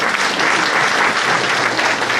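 Dense, loud applause from an audience at a Korean political gathering launching a new organisation, a steady wash of many hands clapping together for the whole stretch with no pauses.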